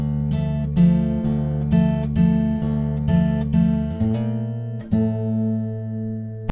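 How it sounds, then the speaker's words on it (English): Fingerstyle acoustic guitar plays a full theme intro, a clear run of plucked notes in a lilting rhythm with several sustained chords ringing out near the end, close and alone. "And altogether the intro sounds like this."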